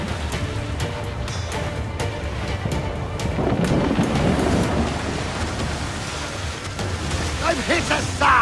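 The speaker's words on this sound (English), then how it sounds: "That storm's from the bowels of hell!" A video-game thunderstorm at sea in Assassin's Creed 4 Black Flag, with heavy rain hissing and thunder rumbling loudly throughout, swelling midway, while game voices shout over it.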